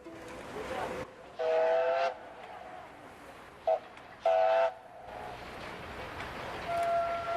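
A train whistle sounds in two long blasts and one short toot, over steady rumbling of a passing train.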